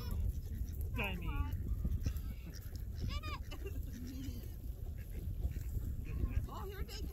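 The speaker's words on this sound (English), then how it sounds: "Let me see you guys feed the duckies." Ducks and seagulls gather for food, with quacking and bird calls scattered through steady outdoor noise while people talk nearby.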